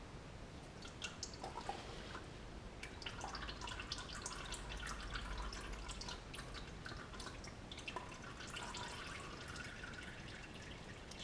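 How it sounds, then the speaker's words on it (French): Engine oil drips steadily onto the sump of a 1990 Alfa Romeo Spider during an oil change, with small wet drips and squishy trickling sounds that run continuously at close range with no speech. "Ça coule sur le carter."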